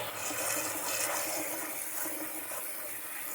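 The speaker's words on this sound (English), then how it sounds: "Get that excess starch rinsed off." Cooked pasta is rinsed under running water, a steady close hiss of splashing water that flows without a break and stays fairly even in loudness.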